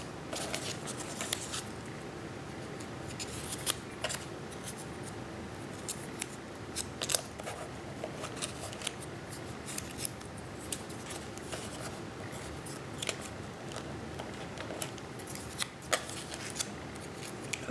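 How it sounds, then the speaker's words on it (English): Scissors cut steadily through paper as hearts are clipped out for a craft project, a continuous close run of small crisp snips over light background hiss. "And cut a bunch of hearts out."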